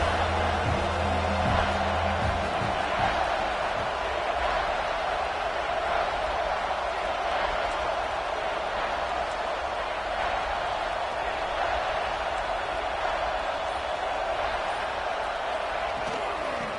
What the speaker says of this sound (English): The high crowd rolling noise down on the Saban field on 3rd down